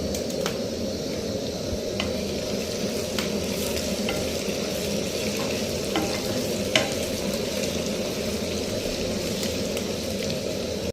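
Whole and green chillies fry in hot oil with a little salt, giving a steady, close sizzle and crackle with occasional sharper pops and the scrape of stirring.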